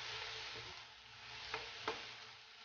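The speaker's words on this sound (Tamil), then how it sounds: "தக்காளி நல்லா வதங்கிட்டுருக்கு" Tomatoes and green chillies sauté in a pan for a country-chicken biryani, giving a steady, soft sizzle with a couple of brief scraping stirs. No one speaks.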